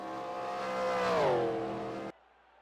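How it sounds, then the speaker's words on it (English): Race cars in a racing game roaring at Daytona International Speedway, a loud sustained engine drone that swells and bends in pitch before cutting off abruptly to near silence. "As these drivers get their cars fired up and underway"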